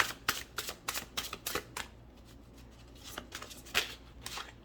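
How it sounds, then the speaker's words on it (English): Tarot cards are shuffled close up in quick riffling bursts, a cluster of crisp papery flicks early on, then a pause and a few softer shuffles, with no talking. "I'm going to keep shuffling."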